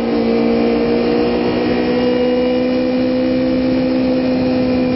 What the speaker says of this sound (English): revving my engine really loudly